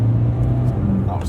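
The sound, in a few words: Suzuki Swift car engine accelerating in second gear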